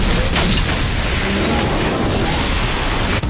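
A loud, rumbling helicopter explosion on the ground with crackling debris fills the space, a dense roar that stays strong throughout.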